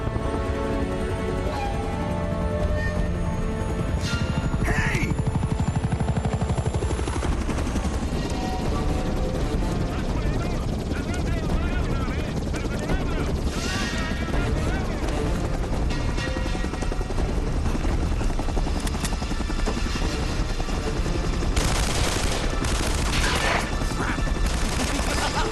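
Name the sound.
helicopter and gunfire in video game Uncharted: Drake's Fortune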